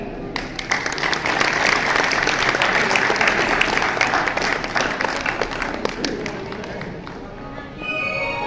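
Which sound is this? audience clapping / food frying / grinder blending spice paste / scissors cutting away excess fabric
audience clapping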